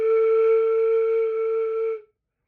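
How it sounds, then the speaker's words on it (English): A single sustained flute tone made by blowing across the embouchure hole, steady and clear with bright overtones, held for about two seconds before stopping cleanly. "You're gonna line the hole up and you're gonna blow over the hole,"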